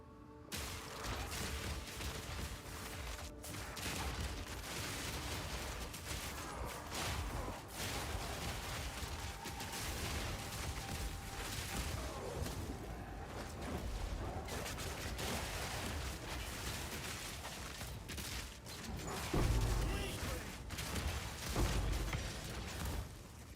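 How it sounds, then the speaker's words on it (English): Herald of Blood explosions from the action game Path of Exile 2 form a dense, continuous barrage of overlapping bursts and pops, steady and moderately loud throughout with a slight swell near the end. "the Herald of Blood explosions fucking take forever"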